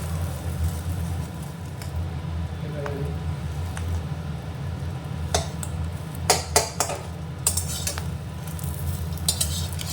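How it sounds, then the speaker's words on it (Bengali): Eggs frying in a pan until reddish, for an egg curry with taro root: a low, steady sizzle under a constant hum, with sharper spatula clinks and scrapes near the end. "আমি লাল লাল করে ভেজে নিচ্ছি"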